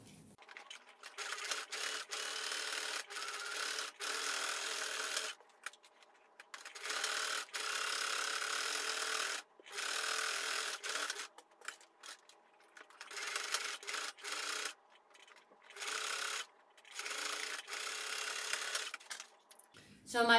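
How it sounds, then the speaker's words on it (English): A sewing machine stitches the sides and bottom of a fabric tote bag, running in repeated steady whirring bursts of a few seconds each, separated by short silent pauses. The sound is close but fairly quiet. "So I'm going to sew the sides and sew the bottom"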